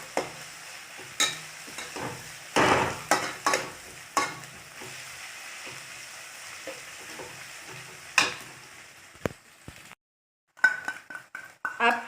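Chicken masala being stirred and mixed in a pan over low sizzling, with scattered utensil scrapes and clinks against the metal and a brief silent gap near the end.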